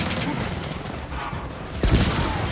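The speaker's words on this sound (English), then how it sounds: "So the new shotgun, when you pull the trigger, Oscar, it fires once." Shotgun fire in Gears of War 4, a run of faint gunfire-like blasts with one sharper, louder shot near the end, heard beneath the surrounding game sound.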